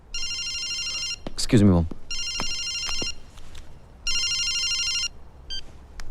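A telephone rings in three long electronic bursts with gaps between them, loud and close indoors at home, with a brief spoken line cutting in between the rings.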